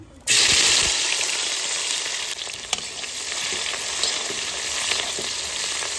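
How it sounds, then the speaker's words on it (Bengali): Capsicum frying in hot oil in a wok, a steady loud hiss and sizzle that starts abruptly and holds evenly throughout, with faint scrapes. "তেল গরম হয়ে গেছে সর্বপ্রথম ক্যাপসিকামটা ভেজে নেব"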